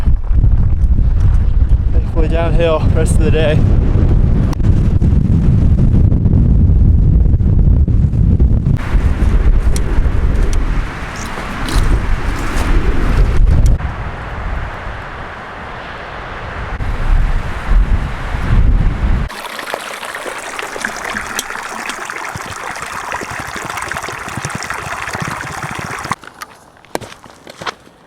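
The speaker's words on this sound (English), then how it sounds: "Pretty windy up here." Strong wind on a Continental Divide Trail mountain pass near Big Sky, Montana, roars and buffets the microphone in heavy gusts, with a person speaking briefly under the rumble.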